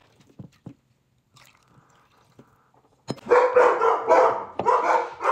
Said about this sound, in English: They bark at any noise.